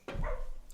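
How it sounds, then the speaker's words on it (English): A dog lets out a single short, close bark that tails off into a brief whine, alone in a quiet room. "Now that's my dog barking up a storm."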